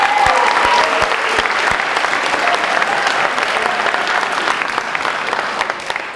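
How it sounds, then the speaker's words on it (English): Loud, sustained applause from a banquet audience at a high school senior banquet, steady dense clapping filling the room for several seconds without pause. "How about a huge round of applause to the best advisors ever?"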